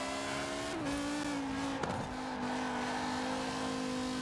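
A fast, squirrely rally car drives with a steady, droning engine note throughout. Its pitch dips and shifts briefly near the start and again midway, with light road and tire noise beneath and no voices.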